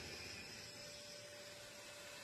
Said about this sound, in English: Vacuum out that drain line.